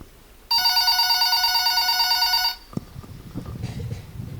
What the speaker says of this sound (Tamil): ஃபோன் அடிச்சிட்ருக்கான்.